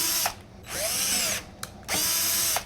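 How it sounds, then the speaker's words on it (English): A power drill pre-drills holes along a wooden board, running in two loud, sustained bursts of whirring with a short pause and a brief blip between them, close and alone without talk. "just going to go along each one and pre-drill for its location"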